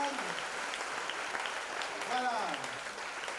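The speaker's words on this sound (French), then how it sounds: "On applaudit," Crowd applause and an ovation at a French-speaking event sound as a continuous wash of clapping, with a voice talking over it throughout.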